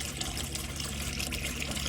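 Water running and splashing out of a motorhome boiler in a Rapido 7078, a steady continuous gush and trickle filling the short moment, close and even in level, with no voices.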